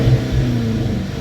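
A Dodge 5.7 engine with a MagnaFlow exhaust revs in a short, close burst of throaty, rising engine roar with no talking.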